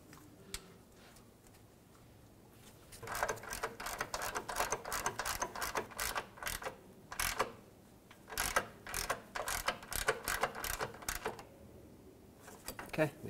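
Small 10 millimeter bolts on a 2006-2011 Honda Civic are tightened during a clutch replacement, giving quiet, close, irregular bursts of ratchet clicks, with a short pause between runs.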